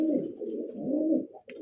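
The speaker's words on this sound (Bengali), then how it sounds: "রানিং আইসবার দামাসিন সিঙ্গেল একটা মাদি কবুতর" Female Iceberg Damascene pigeon cooing close up, a low throaty coo lasting about a second, followed by a short brief call, with no talking.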